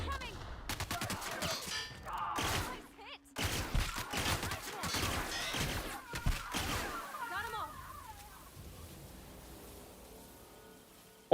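Plasma rifle and grenade launcher fire in a video game: dense, loud bursts of rapid shots and blasts with brief gaps, then a fading, rumbling tail, with some voice mixed in.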